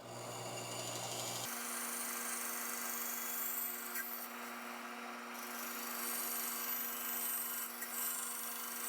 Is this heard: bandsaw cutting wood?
yes